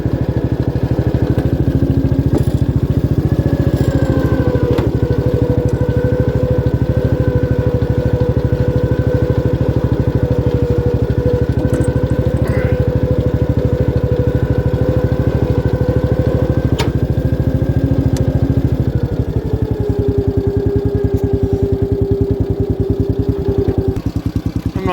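A 1972 Gravely 432 tractor engine running as it drives around with the hood off, a loud, close, steady chugging with slight pitch changes and a drop in revs near the end.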